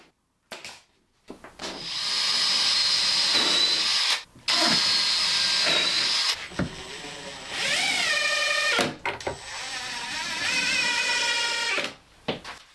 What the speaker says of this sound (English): when I drill my pilot holes for my screw fixings